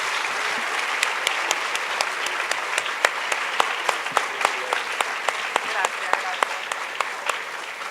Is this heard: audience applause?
yes